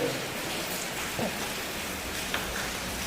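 Steady rain with wind, a dense, even hiss of rainfall on surfaces outdoors, constant and moderately loud throughout with no talking.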